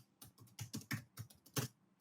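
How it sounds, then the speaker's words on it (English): Rapid, uneven clatter of keys on a computer keyboard, close and fairly quiet, with irregular bursts of strokes and short pauses, no talking. "it's so hard to type without saying what I'm typing"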